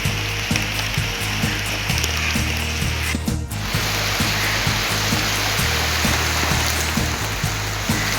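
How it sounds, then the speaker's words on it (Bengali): Heavy rain pours down with some wind in the aftermath of Cyclone Yaas, a loud, dense, continuous hiss with a faint repeating tapping of drips underneath. "সেরকম বৃষ্টি এখন আমাদের এখানে হচ্ছে। তো আপনাদেরকে বৃষ্টিটাই দেখাই।"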